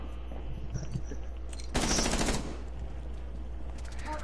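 Video game gunfire in Dead by Daylight, a short, loud burst of rapid shots lasting under a second, standing out from a low steady game background.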